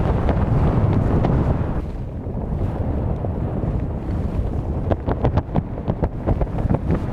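Strong wind buffeting the microphone on the Old Course golf links at St Andrews, a loud continuous roar with gusty rumble and flapping, no talk.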